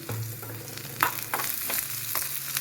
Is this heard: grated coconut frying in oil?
yes